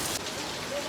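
Rain pours down steadily at a home with a swing, a dense, close hiss with no break.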